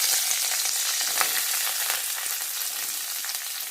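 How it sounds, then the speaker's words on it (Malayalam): Curry leaves frying in hot coconut oil, a steady close crackling sizzle with fine spitting pops running without pause, no voices over it. "എണ്ണ ചൂടായുമ്പോൾ കറിവേപ്പില ഇട്ട് കൊടുക്കാം."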